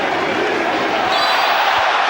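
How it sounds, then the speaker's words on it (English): A football stadium crowd roars with excitement during an Australia versus Ghana match in West London, forming a dense, loud, continuous wall of cheering and shouting with no break across the whole moment. "the crowd get very excitable now"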